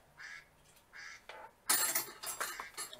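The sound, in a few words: phone making a quacking sound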